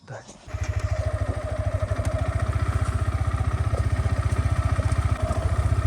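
A motorcycle engine starts and settles into a loud, steady, fast-pulsing idle close by, with voices speaking over the engine.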